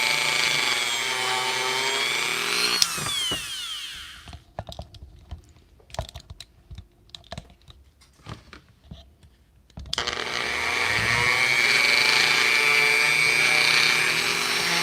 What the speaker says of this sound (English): let's go ahead and sand the edge round